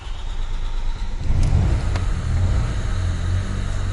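A Toyota car engine catching and running roughly, said to fire on only two cylinders: a low, uneven rumble that swells after a second and keeps chugging irregularly, with a couple of sharp clicks near the start.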